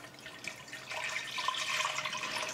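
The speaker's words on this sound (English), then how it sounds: "here's the rest of my coconut milk is going in" Coconut milk is poured into a pot of Thai red curry with shrimp, a close, steady liquid splashing and trickling that swells after the first second and carries on without talk.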